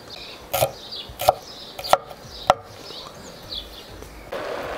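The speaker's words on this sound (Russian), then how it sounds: "Нарезаем чеснок мелко." Knife chopping garlic finely on a board in a home kitchen: four sharp, separate cuts about half a second apart, close and fairly loud, followed by quieter handling sounds and a brief soft rustle at the end.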